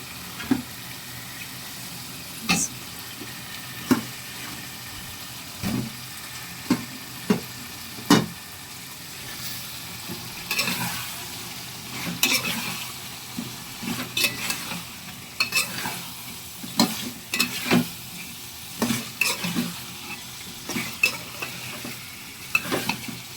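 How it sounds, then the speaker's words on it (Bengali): Snakehead fish being sautéed and stirred in a spiced potato curry in a pan, with a soft steady sizzle broken by frequent sharp spatula scrapes and knocks, close and fairly loud. "এখন সুন্দর করে মাছগুলো কষিয়ে নেব।"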